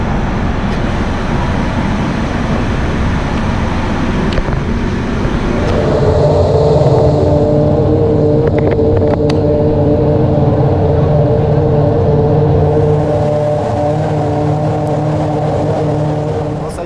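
A Formula 1 car's engine drones loud and close from the cockpit. Broad rushing noise at first settles into a steady, even engine tone that holds for the rest of the run.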